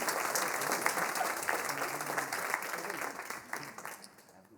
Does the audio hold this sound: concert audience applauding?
yes